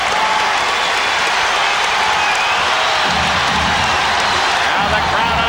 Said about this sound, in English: Now the crowd on its feet